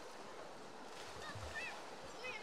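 Steady rushing water from a flowing stream fills the background, continuous and moderately loud, with faint bird chirps on top.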